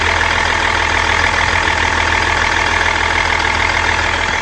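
Range Rover L322 TD6 diesel engine idling steadily close up, fitted with new auxiliary belts, a continuous even rumble with a faint ticking clatter and no talking.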